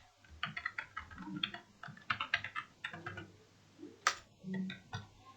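Code being typed on a computer keyboard, a quick irregular run of close, crisp key clicks with brief pauses and one sharper tap near the end.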